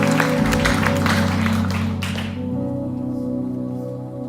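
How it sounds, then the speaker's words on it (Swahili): A church congregation applauds loudly for about two seconds while a held organ or keyboard chord rings under it, then the clapping fades out and the chord carries on alone. "Kama unanisikia mpatie makofi mazuri."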